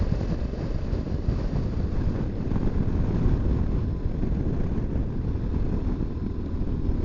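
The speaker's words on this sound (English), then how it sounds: "And that wind is back." Strong wind buffets a microphone on a Scottish island motorcycle road trip, a loud, steady low roar with constant rumbling gusts and no break.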